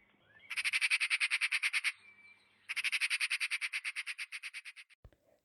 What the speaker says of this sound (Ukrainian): Сорока трищить.